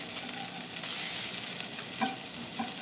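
Ingredients sizzle in hot oil in a pan during prep for cold udon in peanut sauce, a steady close-up hiss with a few soft stirring scrapes and no talking.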